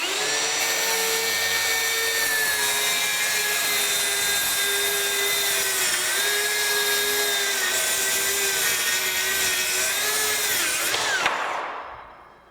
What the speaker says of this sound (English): We are cutting into the 2x4 and a 1/2 inch of OSB.